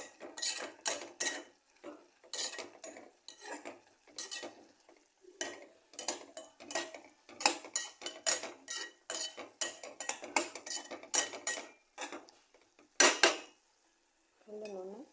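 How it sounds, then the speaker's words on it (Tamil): Drumstick leaves are stirred with salt in a cooking pot, a metal spoon clanking and scraping against the pot in a quick, irregular run of loud close strokes with short pauses between. "உப்பு போட்டு நல்லா சுருளாக கொஞ்சம் கிண்டுங்க."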